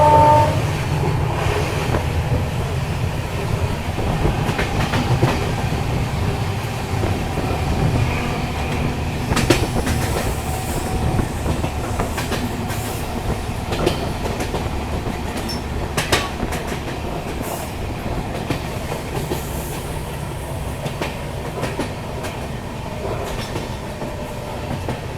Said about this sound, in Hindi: ट्रेन यहाँ से डिपार्चर ले रही है।